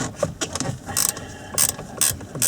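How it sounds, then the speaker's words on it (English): Size 10 ratchet spanner with a Torx 30 bit loosening a steering wheel cowl screw on an Audi A4, a close series of quick ratcheting clicks in short bursts with irregular rhythm. "put in a Torx 30 bit, like so, and get a size 10 ratchet spanner"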